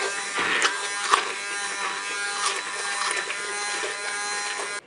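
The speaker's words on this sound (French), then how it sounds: "Maintenant, je vais mixer." An immersion blender purees apple and orange compote in a multicooker pot, giving a continuous high buzzing whir with small surges and dips as it works through the fruit, close and steady until it cuts off at the end.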